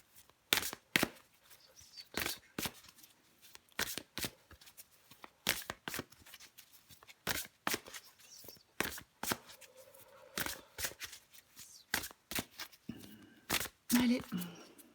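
A deck of tarot cards is shuffled by hand for an Aquarius reading: a run of sharp, close riffling bursts and snaps at an uneven pace, with a faint voice briefly underneath.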